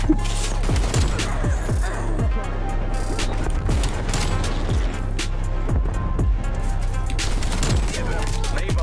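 Rapid shotgun fire and other gunshots in the Black Ops Cold War video game, a dense run of sharp close blasts over a steady engine-like rumble, with people talking throughout.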